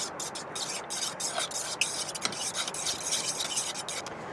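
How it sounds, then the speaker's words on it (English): Pancake batter with eggs stirred in a bowl inside a van parked by a beach in Maine: steady, quiet scraping and swishing from rhythmic mixing strokes, close up and uninterrupted. "now we're going to stir this all together with the eggs"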